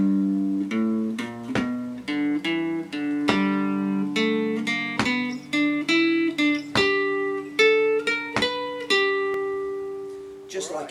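Bluegrass lick picked on a cigar box guitar, a quick run of clear plucked notes that ring and overlap, ending on a sustained note with a slide, played alone without talking.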